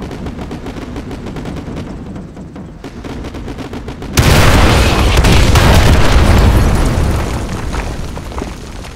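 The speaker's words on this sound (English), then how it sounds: "Artillery inbound." Heavy artillery barrage in Call of Duty Modern Warfare 2, a dense roaring wall of booming explosions that surges suddenly and stays loud for several seconds over ongoing battlefield gunfire.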